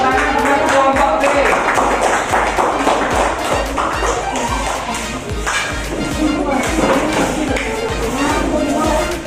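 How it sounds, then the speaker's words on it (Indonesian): A classroom group claps for group B, a dense, uneven patter of hand claps at close range mixed with chatter and scattered taps and thumps. "tepuk tangan buat kelompok B"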